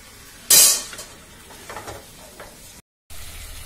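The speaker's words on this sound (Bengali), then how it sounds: "এইটা এবার ঢাকা দিয়ে দিয়ে কষতে থাকি।" Chicken kasa is stir-fried in a pan: a sudden loud sizzle burst, then quieter frying hiss with intermittent stirring scrapes and clinks, a brief drop to silence, then frying resumes, with no talking.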